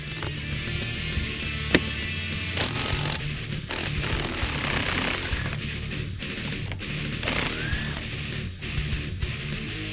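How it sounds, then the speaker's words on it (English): An impact-style power tool rattles in rapid hammering bursts while removing a strut nut during a coil spring install on a 2011-2014 Mustang with an Eibach Sportline set, close and loud with brief pauses. "we're going to remove the strut nut."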